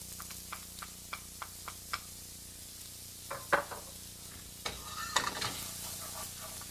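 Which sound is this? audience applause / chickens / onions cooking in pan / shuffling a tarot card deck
onions cooking in pan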